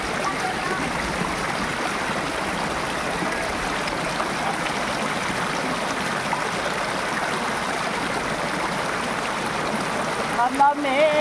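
Cold mountain water flows steadily and continuously at close range, a dense rushing wash that holds even throughout with a brief disturbance near the end.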